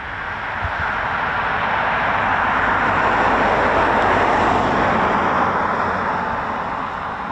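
An Embraer ERJ145 jet arriving at an RAF station, a broad steady engine roar swelling and holding loud across the whole stretch before easing slightly at the end.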